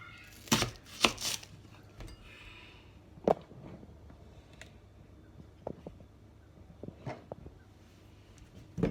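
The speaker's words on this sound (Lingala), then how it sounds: "Nazui litungulu nanga moko na bandi ko kata ye" An onion is chopped with a knife, a quick burst of close, sharp cuts at the start, then scattered single taps on the board.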